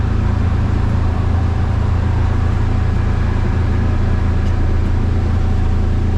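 An outboard motor on a Glasply 19 boat with a gill bracket runs steadily while being trimmed, a loud continuous low engine drone with no pauses.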